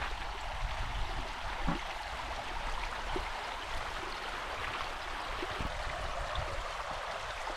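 A river flows beneath a shaded camper parking spot in Greece, a steady broadband rush of moving water that holds constant throughout, with a few faint knocks over the top and no talking.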